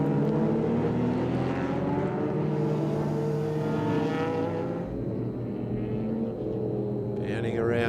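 Historic Porsche and MG Midget sports cars racing down a circuit straight at a festival of speed, a steady loud engine drone with shifting pitch as the cars pass, under continuous commentary.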